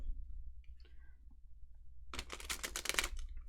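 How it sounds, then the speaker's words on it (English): Tarot cards being shuffled, a dense burst of quick papery riffling clicks that starts partway through and runs to the end after a quiet opening, close and moderately loud. "I can shuffle."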